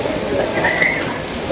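Heavy rain pouring down steadily on the road from Kukke Subramanya toward Hubballi, a loud unbroken hiss of drops close by, with no gaps.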